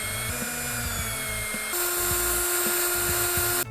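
Rotary tool such as a Dremel polishing a thermal camera shell, a close, steady high-pitched whine with shifting tone and a brief step up in pitch midway, with no talking.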